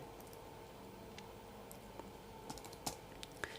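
Quiet clicks from a computer keyboard while code is typed in VS Code, with irregular keystrokes that grow denser and sharper toward the end.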